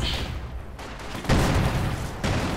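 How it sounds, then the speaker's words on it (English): Mortar fire in the strategy game Company of Heroes 2 lands as deep, rumbling booms, with one loud burst followed by a long roar and a second impact, all close and heavy. "We are under mortar fire."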